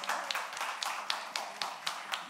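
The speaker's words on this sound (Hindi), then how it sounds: "ये होता है ना मिर्जापुर स्टाइल ताली बजाना" Sparse, rhythmic hand clapping from the audience at the Mirzapur Season 3 trailer launch, about eight distinct claps in a steady beat over a faint background.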